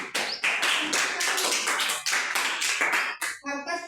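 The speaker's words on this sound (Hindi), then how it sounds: "जोर से बोलो ताली" Students at a science quiz give a round of brisk, dense applause that runs steadily for several seconds, then breaks off into a few scattered claps at the end.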